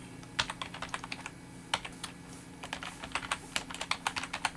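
Computer keyboard typing code, bursts of quick clicky keystrokes in uneven runs with short pauses, close and crisp, alone without talk.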